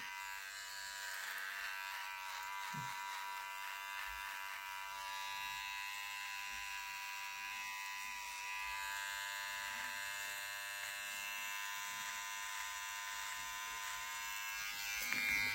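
A VGR V-265 hair trimmer runs steadily at 7000 rpm, giving a continuous, even electric buzz that stays close and level from start to finish with no talking.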